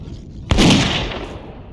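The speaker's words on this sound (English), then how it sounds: "We gotta shoot that demon out of the sky." Video game gun firing at a flying demon: a single sharp, loud shot followed by a booming tail that fades out over about a second, with no talk.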